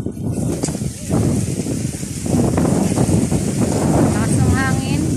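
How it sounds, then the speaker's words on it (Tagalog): Strong wind buffets the microphone in heavy gusts at a park, with people talking through the roar. "Lakas ng hangin."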